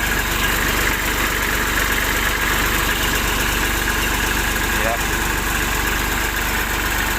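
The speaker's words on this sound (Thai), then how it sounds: "เดินเบาไว้เฉยๆ" A tractor engine idles steadily and loudly at about 960 rpm, a constant low rumbling chug with no revving, close by.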